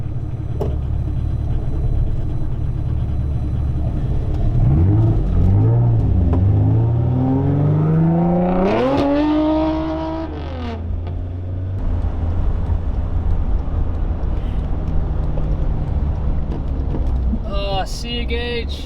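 Volkswagen MK1 Rabbit cars cruise along, one engine revving up hard through rising gear pulls before easing off into a steady road hum.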